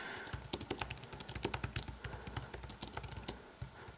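Rapid, uneven typing on a Logitech Ultrathin keyboard for the iPad mini, a dense run of light, close plastic key clicks with short pauses throughout.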